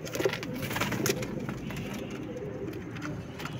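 Pigeons coo repeatedly and close by in a loft, their low throaty calls overlapping in a steady stream with other bird noise.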